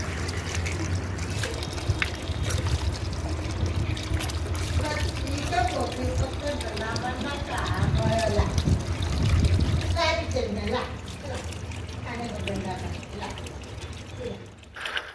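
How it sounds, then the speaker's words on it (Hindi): Raw bananas are washed under fresh running tap water, with a steady pouring and splashing stream close by while a person talks over it throughout. "इधर पानी आ रहा है ताज़ा ताज़ा, तो यहीं से हम केला को पहले बढ़िया से धुल लेते हैं।"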